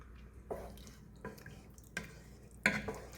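Beef stew with potatoes being stirred in a pot, four distinct scraping, sloshing strokes spaced about half a second apart, close and fairly quiet.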